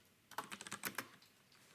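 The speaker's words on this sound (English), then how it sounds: "Oh, I just got this awesome new keyboard." Fast keystrokes clatter on a Kinesis computer keyboard, a short quick burst of about a dozen clicks that is close and fairly quiet, with no talking.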